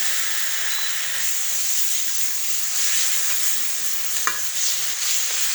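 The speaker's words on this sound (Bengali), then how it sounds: "এটা মিনিট 5-এর জন্য একটু কষাতে হবে" Chili powder and spices sauté in a hot pan for a shrimp and pointed gourd dish, giving a continuous loud sizzle under occasional stirring scrapes and one sharp tap of a utensil; nobody speaks.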